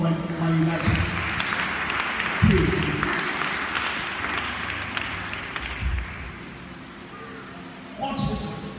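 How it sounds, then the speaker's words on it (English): A church congregation claps during a sermon, a loose run of hand claps rising and falling under a preacher's talk and a few louder thumps, swelling again near the end. "Give a clap of love for my Elijah."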